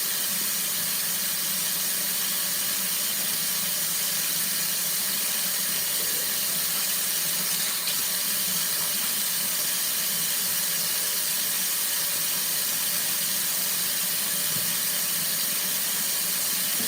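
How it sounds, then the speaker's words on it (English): Tap water runs steadily through hair as it is rinsed, a constant hiss and splash with no voices. "Just kind of run the water through it."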